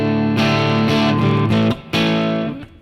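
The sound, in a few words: guitar through Line 6 Pod Go preset with reverb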